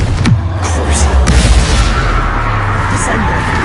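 A Confringo fire spell explosion in Hogwarts Legacy, a loud booming blast with a deep rumbling tail that sustains under a busy game soundscape, with short sharp cracks near the start.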